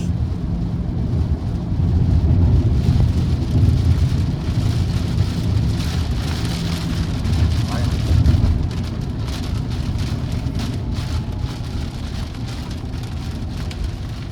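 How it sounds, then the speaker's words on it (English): Heavy rain drums hard on a Tesla Cybertruck driving into a storm, a dense roar of drops on the body and glass with a low road rumble underneath, swelling midway then holding steady. "And there is the storm. That's the wall of rain."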